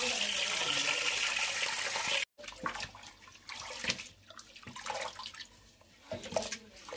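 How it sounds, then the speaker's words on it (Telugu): Rice rinsed by hand in a bowl of water before soaking for a Hyderabadi chicken dum biryani; close splashing and swishing of water, broken by a short silent gap, then irregular sloshes and drips. "ముందుగా బియ్యం తీసుకొని వాటిని బాగా కడిగి నానబెట్టుకోవాలి"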